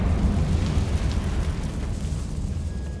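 Confringo fire spell in Hogwarts Legacy bursting into a heavy, low rumbling explosion that stays loud and dense, then slowly settles into a fainter roar, with no talking.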